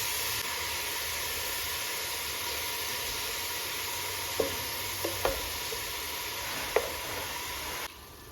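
Chopped fresh mushrooms fry in a pan with a steady, even hiss of sizzling, broken by a few soft clinks of stirring near the end before the sound drops away.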